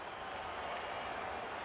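Virtual stadium crowd in the football game AFL 26 roars steadily, a dense broadband swell of cheering and clapping that holds throughout without a clear peak.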